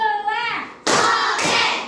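In a classroom clap game, children answer a brief spoken call with two loud, close claps about half a second apart, each bright and sharp.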